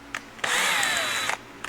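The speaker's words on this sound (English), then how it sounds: "Drill all the way out to 9/16." A drill press boring a hole out to 9/16 inch during an axle job on an old truck, a steady loud whine with a falling pitch lasting about a second, bracketed by brief clicks before and after.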